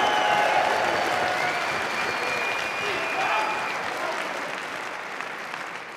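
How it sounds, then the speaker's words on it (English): A large crowd at a Brazilian jiu-jitsu grappling event applauds steadily and densely for the full stretch, with cheering mixed into a broad, loud wash of clapping that eases slightly toward the end. "Ladies and gentlemen, big round of applause for Darragh O'Connell."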